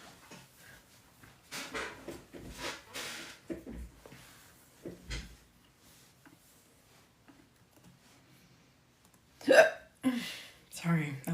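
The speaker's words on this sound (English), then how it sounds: "sorry, that was a really weird loud hiccup." A single loud, abrupt hiccup bursts out near the end, close and sharp, after quiet speech during a live stream.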